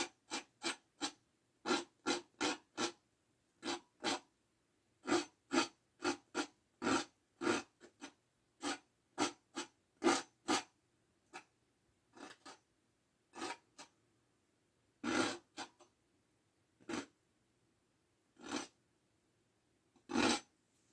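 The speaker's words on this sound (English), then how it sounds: "Let's scrape some stems in there." Dogwood plant stems being scraped in a series of short, dry rasping strokes, close and fairly loud, coming in irregular bursts separated by brief pauses, with no talking.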